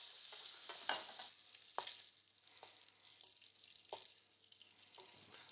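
Cuttlefish cubes fry quietly in a pan while a utensil stirs them, giving a soft continuous sizzle broken by several sharp scraping knocks at uneven intervals.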